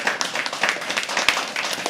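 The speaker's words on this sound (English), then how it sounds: "Start clapping." Dense applause from an audience at a live poetry open mic, many hands clapping steadily and close, without a break.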